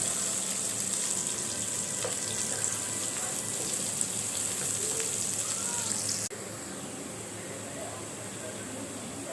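Onions frying over low heat for a Punjabi tinda (round gourd) sabji, giving a steady, broad hiss and sizzle that runs throughout at an even level and drops slightly in intensity partway through.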